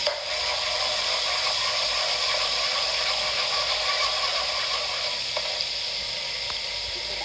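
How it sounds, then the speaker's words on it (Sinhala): Soy sauce hits hot oil in a pan and sizzles loudly, a dense steady hiss that holds evenly throughout with faint crackling. "සමයන් සෝස් ටිකක් තෙල් එකට දාගමු. එතකොට තෙල් එක සමයන් පාට වෙනවා."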